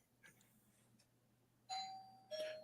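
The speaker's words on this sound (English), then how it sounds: "That is definitely my doorbell." A doorbell rings indoors during a live simulcast, two bright electronic chimes in quick succession following a few faint knocks or thumps, fairly close and clear over a quiet room hum.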